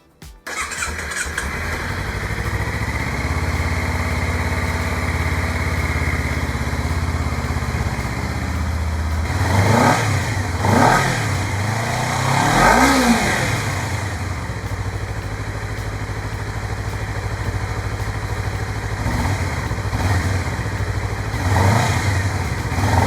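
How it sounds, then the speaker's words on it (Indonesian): A 2021 Honda CBR250RR SP motorcycle idles steadily through a throaty Akrapovic slip-on exhaust, then several quick throttle blips rev it up and let it drop back to idle. "Kita panasin mesinnya dulu, baru nanti kita sedikit gas supaya kedengeran aslinya suaranya."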